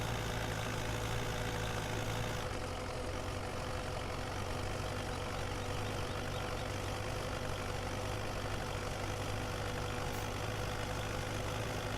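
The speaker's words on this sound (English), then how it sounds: "I will say that about this tractor. It sounds the part." A low, steady tractor engine drone in Farming Simulator 17 runs throughout, rumbling and even, its pitch shifting slightly early on before settling into a constant idle-like hum.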